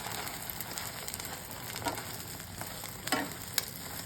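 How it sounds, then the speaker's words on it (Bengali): Double-egg omelette with onion, green chili and coriander frying in a pan, giving steady close sizzling and crackling with a few sharper pops and no talking. "কাঁচা লঙ্কা, ধনেপাতা দিয়ে ডিমের অমলেট করছি"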